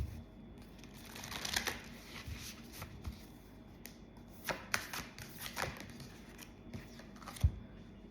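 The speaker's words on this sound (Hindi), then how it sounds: "So let's take one card from here." Soft papery rustles and light snaps from a tarot card being pulled out of a deck, faint and close, scattered over several seconds with a low room hum underneath.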